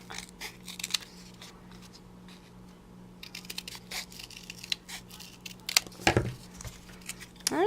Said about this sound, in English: And then I'm going to cut a leaf shape.